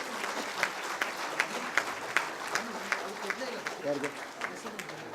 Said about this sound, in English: give a big round of applause to the dignitaries on the stage